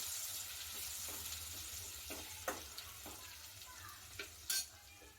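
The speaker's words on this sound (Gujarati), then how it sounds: "હવે થોડી વાર આપણે તેને સારી રીતે સાતળી લઈશું" Gravy of onion and tomato with peas muthiya sautéing in a pan, a steady low sizzle with a few sharp scrapes and clinks of a spoon stirring against the pan.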